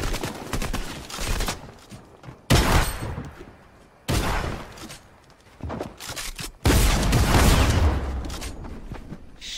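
Video game gunfire in a two-versus-one match, loud bursts of rapid shots and booming blasts in several clusters separated by short lulls, close and dominant.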